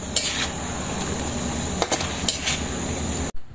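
A spoon stirring chicken feet adobo with oyster sauce in a metal pot, steady soft scraping and a few sharp clinks against the pot over a low sizzle, ending abruptly.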